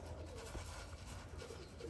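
Racing homing pigeons return to a loft after an old bird race, heard as faint coos and bird calls over a steady outdoor rumble and hiss.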